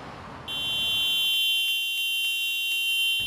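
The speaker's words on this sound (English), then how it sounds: "the wailing car alarm sends neighbours and children running into the street" A burning ute's car alarm blares a sustained, high electronic tone that cuts in abruptly over background noise and holds loud and steady, with faint pulsing underneath and no speech.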